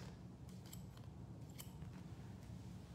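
Scissors point cut into long hair during a layered haircut, making several faint, crisp snips at an uneven pace over a low background hum.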